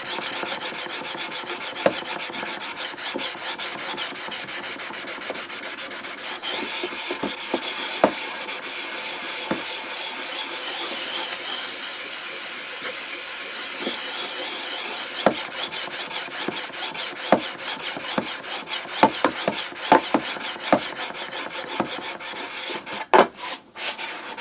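Steady, close rasping as a drawknife blade is worked across a sharpening stone during grit progression, with continuous scraping strokes, occasional small knocks and clicks, and no talking.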